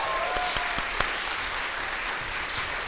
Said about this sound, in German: Applaus bitte für Leon von Leon TV